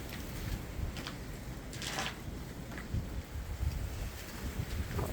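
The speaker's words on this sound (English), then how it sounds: "Very cold wind." Cold wind gusts during an ice storm in a low, steady rumble of buffeting against the microphone, with faint ticks of ice or debris scattered through it.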